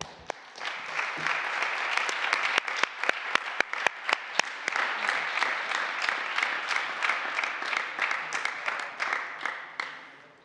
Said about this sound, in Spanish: hay que darles un aplauso porque han organizado una jornada muy, muy potente